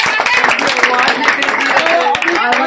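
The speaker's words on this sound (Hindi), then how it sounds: "लक्ष्य के लिए एक बार जोरदार तालियां" An academy audience bursts into loud, dense applause for a child, a steady wash of many clapping hands mixed with cheering and chattering voices throughout.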